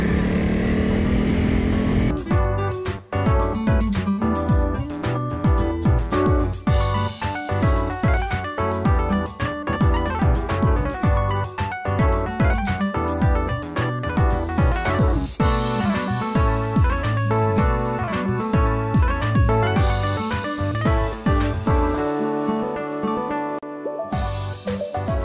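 A Honda CRF 300 Rally motorcycle engine revs and pulls off-road on a damp trail, its harmonic drone rising and falling steadily and close up with rattling clatter, with no talk.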